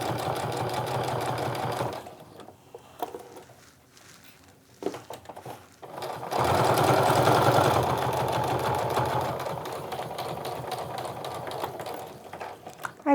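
A sewing machine stitches a seam on a handmade clutch with a steady close whir. It pauses and slows briefly in the middle, then resumes at full speed.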